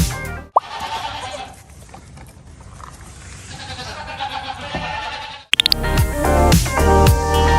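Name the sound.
goat bleating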